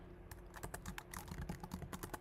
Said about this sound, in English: God, I'm typing awful today.